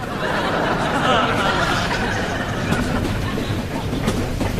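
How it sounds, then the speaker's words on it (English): Steady clickety-clack of steel train wheels rolling over polished rails, a continuous close rumble with faint rhythmic clicks throughout, no voices. "enjoy the clickety-clack of the steel wheels on the polished rails"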